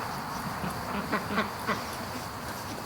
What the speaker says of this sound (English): there's a group of ducks that are down at the lake